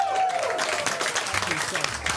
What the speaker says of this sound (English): Get a round of applause for Germa.